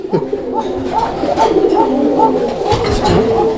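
Pigeons coo in a string of soft, repeated rolling calls close by, with a few overlapping voices and some background chatter beneath.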